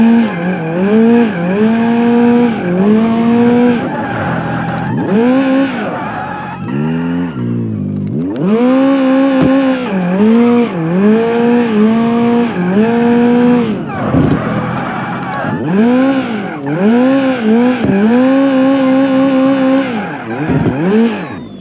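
A Toyota AE86 Levin drifts in BeamNG.Drive, its engine revving and wailing up and down in loud, continuous sweeps as the tires squeal through repeated slides, with no talk over it.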